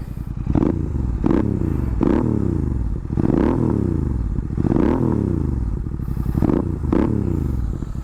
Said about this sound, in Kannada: ನೀವು ರೆವ್ ಮಾಡೋಕ್ವರೆಗೂ ಕಂಪ್ಲೀಟಾಗಿ ಸೌಂಡ್ ಬರಲ್ಲ. ಈಗ ರೆವ್ ಮಾಡಿ ತೋರಿಸ್ತೀನಿ ನೋಡಿ